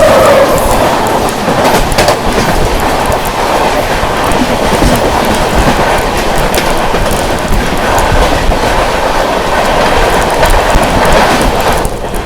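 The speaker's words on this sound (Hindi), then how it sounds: "तो उसके साथ क्रॉसिंग दिखाते हैं आप लोगों को" The LTT–Patliputra Superfast Express passes close by at a crossing, a loud, continuous roar of wheels and rumbling carriages with steady clickety-clack throughout.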